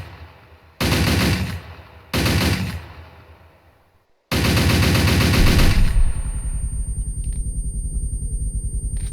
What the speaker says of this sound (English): the 3-round burst mode is the fast fire mode